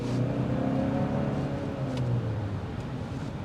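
A 2025 Hyundai Santa Fe SEL SUV with a dual wet-clutch automatic accelerates, its engine producing a steady, moderately loud drone over low road rumble for a few seconds, with no talking.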